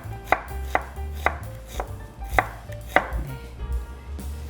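A kitchen knife slices green onion diagonally on a cutting board, giving about a dozen crisp, evenly spaced chops up close with no voices.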